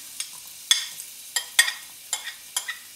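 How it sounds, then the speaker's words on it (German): Garlic frying in hot olive oil in a pan, with a series of sharp stir or scrape clatters over a quiet sizzle, close and clear with no talk. "das Öl ist heiß. Fange ich mal mit dem Knoblauch an."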